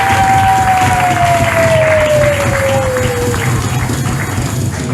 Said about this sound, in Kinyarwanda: Imana tuyikomera amashyi menshi tuyishimire